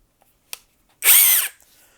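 A SeeSii right-angle impact wrench motor whirs loudly for about half a second, its pitch rising then falling as it runs forward and reverse, preceded by a couple of small clicks.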